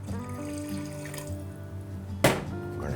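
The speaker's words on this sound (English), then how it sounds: "and we're gonna add our water" Water is poured from a container into a pot of fish stew with tomatoes and stock, a brief splashing gush that starts sharply near the end over a humming kitchen background.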